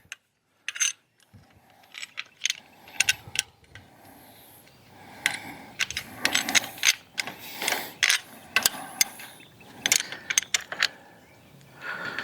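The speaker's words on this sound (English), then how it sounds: "So I'm going to put the end rail clamp on here." An end rail clamp is fitted onto a DIY cucumber trellis, producing scattered sharp metallic clicks and ratcheting rattles at close range, with quiet gaps between bursts.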